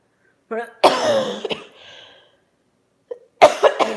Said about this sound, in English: My cough is actually getting a lot better.